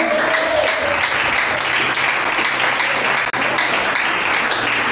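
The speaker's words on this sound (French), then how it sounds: "Acclamons pour le Seigneur" A church congregation claps and cheers for the Lord in a steady, dense wash of applause that stays loud throughout, with only a brief dip near the end.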